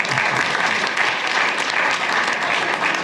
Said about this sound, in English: I don't get a clap?